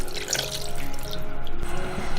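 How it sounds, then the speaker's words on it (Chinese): A bowl of clean water is poured over chicken set in a steamer, a close, continuous splashing and gurgling stream that keeps going for about two seconds. "鸡肉里面加入1碗清水"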